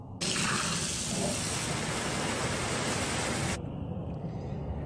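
Pressurized fuel sprays in a loud, steady hiss from a Nissan D21 fuel filter line after its hose clamp is undone, a broadband gush lasting about three seconds before cutting off abruptly to quieter dripping.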